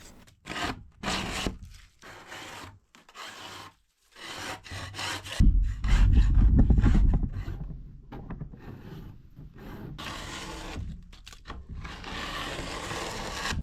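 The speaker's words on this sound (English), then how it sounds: "The paint slides off with almost no effort at all, and a putty knife is all you need." A putty knife scrapes softened paint off a surface after chemical stripper, producing repeated rough scraping strokes with short pauses between them, close and fairly loud.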